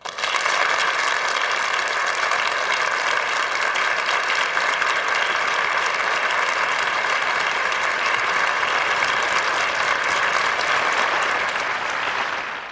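An audience applauds to welcome a guest lecturer, giving a dense, steady round of clapping that stays even throughout and fades slightly at the very end.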